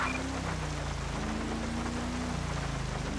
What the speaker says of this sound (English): Be a lot funner now that it's raining.